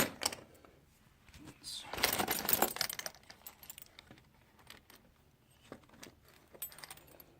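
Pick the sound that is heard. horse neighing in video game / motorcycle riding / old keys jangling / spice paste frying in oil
old keys jangling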